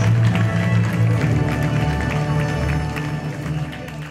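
Applause and a murmuring crowd at a wedding reception, steady and fairly loud across the whole stretch and slowly fading toward the end.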